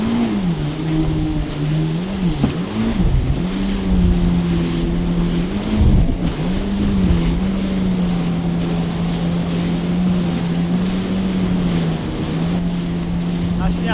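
A Yamaha FX SHO jet ski runs on Poland's largest lake, a loud, close engine drone with pitch swells and dips as the throttle changes, mixed with heavy wind buffeting and water rush.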